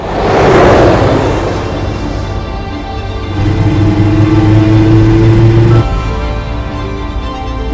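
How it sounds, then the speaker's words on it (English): A car on an Australian outback road draws near, its mid-pitched engine rising loudly and holding a steady drone before dropping off abruptly, close and without voices. "He makes it to a road and manages to flag down a car."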